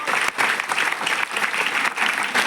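An indoor audience at a business opportunity talk claps together in a steady, dense burst of applause, close and fairly loud, with no speech over it.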